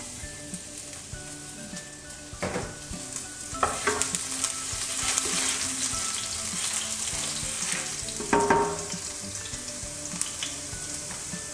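Garlic fries in a splash of oil for a shrimp sofrito, a soft steady sizzle close by with occasional stirring scrapes and clicks of utensils.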